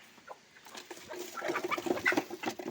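A flock of native backyard chickens kept together on a rooftop terrace, clucking and calling in short bursts that grow busier and louder toward the end, fairly close by with no voices.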